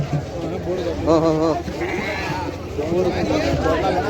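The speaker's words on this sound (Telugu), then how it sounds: "ఇక్కడ చోలు మేకలు ఉన్నాయి" Several goats bleat in wavering, nasal cries at a livestock market, against steady background noise, with people talking nearby.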